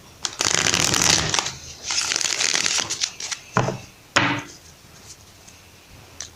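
A Spirit of the Animals oracle deck is shuffled by hand during a tarot reading: two long riffling passes, then a few sharp taps and a quick final riffle, close up.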